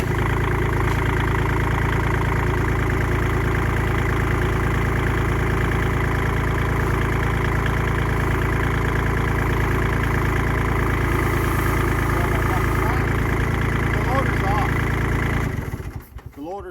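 A Kubota B2601 compact tractor's diesel engine rumbles loudly and steadily at idle close by, then cuts off abruptly near the end.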